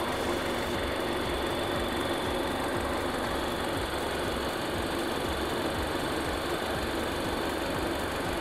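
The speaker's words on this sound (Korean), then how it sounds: "엔진 소리 일정하네요" A BMW 530i M Sport (G30) idles with the bonnet open, a steady even hum and fine mechanical whir holding constant throughout at moderate volume, with no talking.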